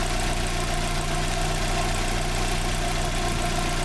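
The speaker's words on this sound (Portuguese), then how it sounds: "O motor dele segue sereninho." A Fiat Idea 1.4 8v Fire engine idles close by with a freshly cleaned throttle body, holding a smooth, even hum without pauses or revving.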